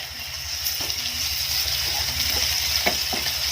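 Garlic and ginger paste frying with half-browned onions in a pan, an even close sizzle broken by a few soft utensil knocks.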